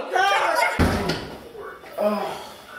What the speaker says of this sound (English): I'm sure you are trying to close the door on me.